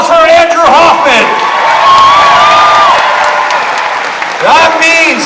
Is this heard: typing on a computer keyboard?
no